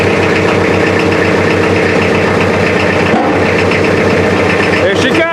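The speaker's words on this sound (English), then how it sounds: "So I'm gonna try the loader and force the back of the trailer down." A loader's diesel engine runs loud and steady close by while it pushes down the back of a trailer during the unloading of a truck, with voices underneath.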